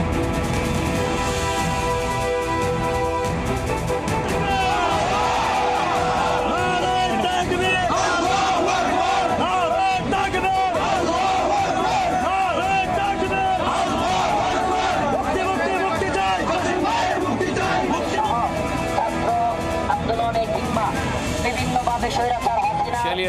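A large crowd gathered outside Kasimpur jail shouts and chants for prisoners' release, a dense, loud, continuous roar of voices and yells over the whole stretch.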